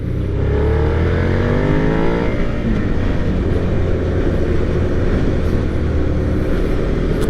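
A 2023 Suzuki SV650 motorcycle engine accelerating hard, its rising revs climbing then settling into a loud, steady roar with heavy wind noise close to the rider.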